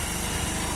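A motorbike engine runs steadily up close, a continuous buzzing drone with a rough pulsing low end, heard briefly and alone on a trip toward Chandubi.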